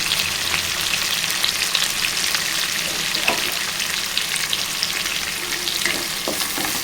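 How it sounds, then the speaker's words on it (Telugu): Tomatoes and green chillies fry in a pan for a chana dal curry, producing a loud, continuous sizzle with occasional scraping stirs and soft pops and no voices. "టమాటాలు నేను రెండు వేసుకున్నానండి మీరు మూడు కూడా వేసుకోవచ్చు కలుపుకోవాలి పచ్చిమిర్చి కూడా వేసుకోవాలండి"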